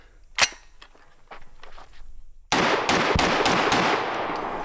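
Gunshots from a gun fired while held with a weak grip, one sharp crack followed by a second loud report and then several rapid shots in a dense burst.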